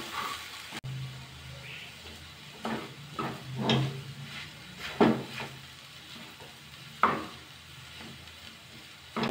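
Mashed potatoes are stirred into masala in a pan for potato kootu over low flame, producing soft intermittent scraping and wet stirring sounds with a faint sizzle, fairly quiet and close.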